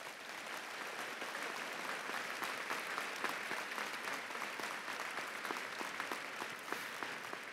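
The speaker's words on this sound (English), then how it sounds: "One more round of applause for Shane." Steady applause fills a commencement ceremony at a university, a large crowd clapping continuously and fairly loudly with no talk over it.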